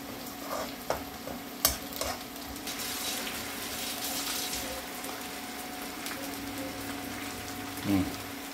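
Chicken going into a pan of browned onions for ginger chicken curry, with a soft sizzle running under steady stirring and a few sharp clicks of a spoon against the pan.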